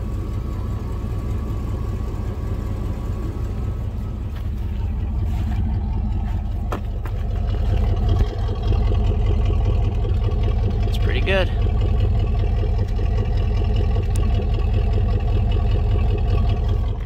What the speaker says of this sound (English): I think that's valve train noise I'm hearing and not exhaust manifold